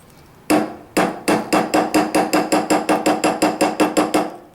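A small hammer flattens a rivet on a wire bangle bracelet, with two sharp metallic taps followed by a fast, even run of about fifteen ringing strikes, close and clear with no talking.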